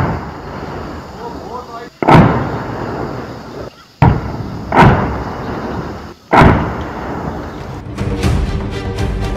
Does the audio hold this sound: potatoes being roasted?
no